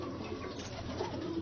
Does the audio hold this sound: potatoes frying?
no